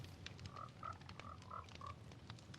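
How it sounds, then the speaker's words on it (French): Frogs in the video game Minecraft give a series of short, faint croaks in a loose rhythm over a low background hum, with no voices. "Là, je regarde mes grenouilles"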